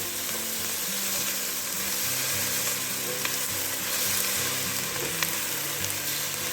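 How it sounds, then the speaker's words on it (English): Sliced onions frying with a little sugar to caramelise for French onion soup, a steady dense sizzle with occasional stirring scrapes running close and loud throughout, with no talk. "we're going to go in with half a tablespoon of sugar. That'll just help caramelise the onions."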